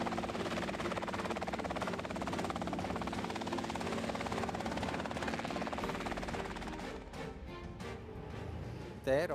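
Robinson R-22 helicopter in flight, its 180 horsepower four-cylinder boxer piston engine behind the cabin, a steady loud rotor and engine drone throughout that thins and changes near the end.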